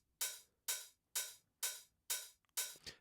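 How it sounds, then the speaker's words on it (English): A 909-style open hi-hat sample with a sharp attack and a fairly long, hissy body repeats five times at an even pace, each hit fading before the next. A final pair of hits is softer. The sample plays alone and faint, with no voices. "So it's like a 909 type of hat"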